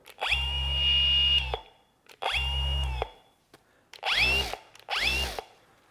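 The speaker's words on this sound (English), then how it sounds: "it makes more noise when you have a polishing pad on it" A Mirka AROP312-B 3-inch random orbit polisher runs in four separate bursts, a loud close whirring motor whine with low hum that spins up and cuts off, the last two shorter with pitch sweeps.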